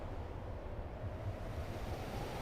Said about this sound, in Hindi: सागर की लहरों का स्वर